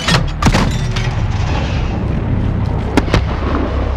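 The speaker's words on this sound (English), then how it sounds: "Launch a flare. We'll pick them off in the light. Illumination rounds." Illumination flare rounds fire in Call of Duty: Modern Warfare 2019, sharp launch thumps at the start and again near the end over a dense rumbling battlefield bed.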